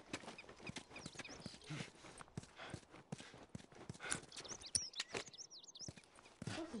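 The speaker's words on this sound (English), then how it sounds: "Horses are everywhere." Horse hooves clip-clop in the video game The Last of Us, a faint, steady, uneven clopping with soft ambient touches and a light voice nearby.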